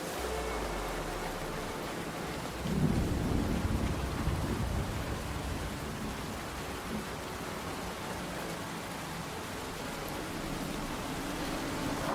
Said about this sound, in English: I hate this rain. I wish the rain would stop